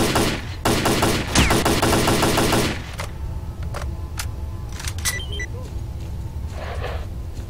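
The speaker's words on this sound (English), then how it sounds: "all these guys seem to have shotguns and nothing else" Shotgun gunfire in the game Stalker: Clear Sky, a dense, loud burst of rapid blasts for the first few seconds, followed by scattered single shots against a rumbling background.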